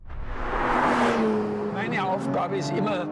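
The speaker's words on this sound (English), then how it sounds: "The new 911 GT3 with Touring Package." A new Porsche 911 GT3 with Touring Package sweeps past with a loud swelling engine roar that fades as it passes, followed by someone speaking over the receding car.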